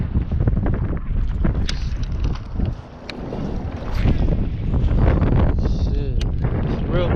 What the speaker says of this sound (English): Shit, it's real windy